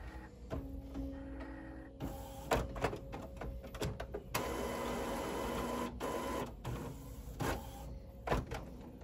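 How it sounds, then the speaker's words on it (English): Mechanical whirring and clicking of an Epson WF-7720 inkjet sublimation printer as it powers up, with motors starting and stopping, carriage shifts and a sustained hum in between. "now we're just going to restart the printer"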